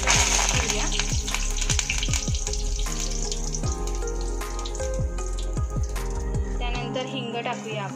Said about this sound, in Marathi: गॅस आता आपण स्लो ठेवूया आणि फोडणीला सुरुवात करूया। तर सर्वात पहिला आपण ह्याच्यामध्ये कढीपत्ता टाकूया